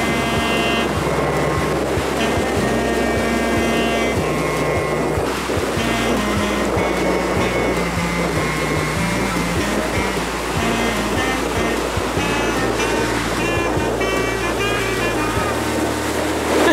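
Ocean waves churning and washing continuously nearby at a beach, mixed with a steady engine-like hum and wind buffeting, no clear speech.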